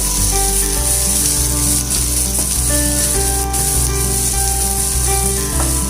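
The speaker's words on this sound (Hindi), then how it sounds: "फिर जो चॉप किया हुआ प्याज, इसको स्टीर कर लीजिए।" Chopped onion sizzles loudly in a pan while being stirred for Indian-style pasta, a continuous close hiss with occasional scraping, and no one speaks.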